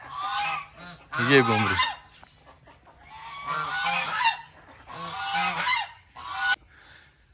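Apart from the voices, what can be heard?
ducks making noise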